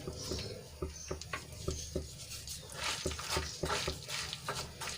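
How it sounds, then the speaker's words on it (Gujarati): Grated jaggery being stirred into melted ghee in a pan for Ganesh Chaturthi churma ladoos, a quiet series of irregular scraping clinks from the spoon against the pan at an uneven rhythm. "ગોળને સરસ રીતે ઘીમાં મિક્સ કરીને આપણે ઓગાળી લેવાનો છે"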